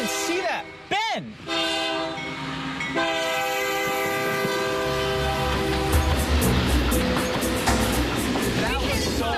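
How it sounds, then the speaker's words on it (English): A train comes barreling down the track with a loud horn blast, then rumbles and clatters past close by as people speak excitedly over the noise. "that train just came barreling down"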